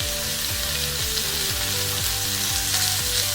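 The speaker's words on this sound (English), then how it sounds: "We're just going to saute this onion off." Chopped onion sautéing in spiced oil in a cast iron pot, a steady close crackling sizzle throughout with low droning tones underneath and no talking.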